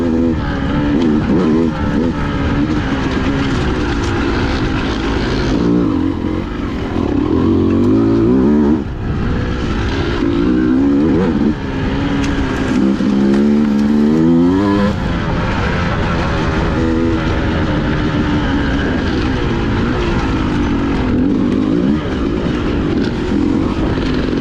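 Two Beta dirt bikes, a 2023 200 RR two-stroke and a 390 RR-S, ride singletrack with loud continuous engine roar that rises and falls with revving and shifting, close up throughout, without talk.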